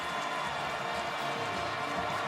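A football stadium crowd roars for the Clemson defense at the 2014 Clemson vs South Carolina game, a steady, dense wash of distant cheering and noise with no distinct individual voices.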